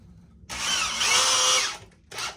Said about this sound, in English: you're going to screw down 2 screws in each 2x4.